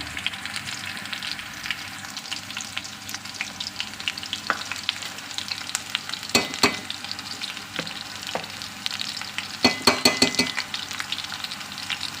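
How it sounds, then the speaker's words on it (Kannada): Steady, close sizzling of mutton keema masala frying in hot oil, with occasional clinks and scrapes of a utensil stirring the pan. "ಇದರಲ್ಲಿ ಎಣ್ಣೆಯಲ್ಲಿ ಸ್ವಲ್ಪ ಫ್ರೈ ಆಗಿದೆ ಚೆನ್ನಾಗಿ"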